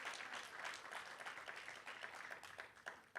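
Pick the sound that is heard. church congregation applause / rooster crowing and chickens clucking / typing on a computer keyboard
church congregation applause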